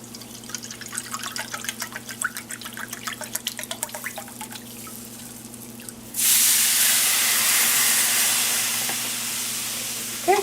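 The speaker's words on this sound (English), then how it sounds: "Now I'm going to put veggie broth in here." Veggie broth poured into a hot pan for vegan poutine gravy gives a sudden loud, steady hissing rush after a stretch of soft dripping and clinking, then slowly eases off.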